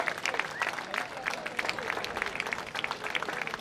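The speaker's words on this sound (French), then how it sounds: "vous pouvez applaudir nos tricycles" A crowd at a 2023 French disability sports event claps in scattered, lively applause for tricycle athletes, voices mixed in, heard from some distance at low volume.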